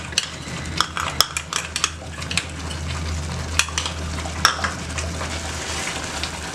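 Ghee is stirred into a pan of carrot halwa, giving a steady sizzle with sharp, irregular clinks and scrapes of a metal spoon against the pan, all nearby.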